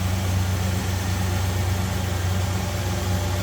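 A 1970 Chevrolet Chevelle Malibu with its original 350 engine idles smoothly, a steady, even low rumble with a close, constant throb and no speech.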